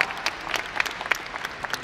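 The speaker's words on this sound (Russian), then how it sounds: "Это аплодисменты вам." Short burst of audience applause at a Moscow business forum, a busy patter of many hands clapping at moderate distance, steady and unbroken for under two seconds.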